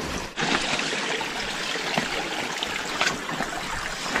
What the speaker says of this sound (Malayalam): ഇവിടെ വെള്ളം ഇതിനകത്തൂടെ ഉണ്ട്. ഒരു ചെറിയൊരു അരുവി